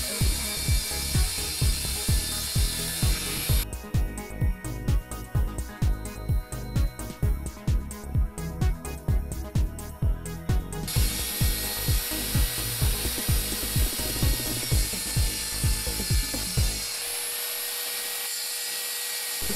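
Power tool cutting wooden side plates in a woodworking shop with a router and table saw, a loud continuous whine broken by rapid regular chattering pulses, with a tonal shift partway through before the motor winds down.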